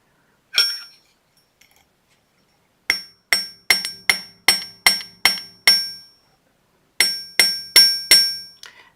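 A hammer taps earring wire against a hard surface in quick, sharp, ringing metallic strikes, one isolated blow followed by two steady runs of about eight and four close hits.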